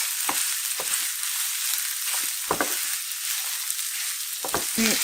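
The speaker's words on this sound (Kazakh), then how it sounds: "Енді пиязды жарықтап аламыз табаға." Onion, tomato and carrot frying in a pan give a steady bright sizzle throughout, with several sharp stirring scrapes and clinks scattered across it, close and fairly loud with no talk.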